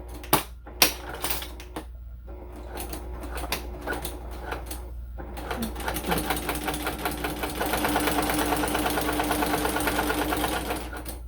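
A sewing machine stitching fabric, beginning with a few clicks and short starts and stops, then settling into a steady, rapid mechanical chatter that runs on at close range.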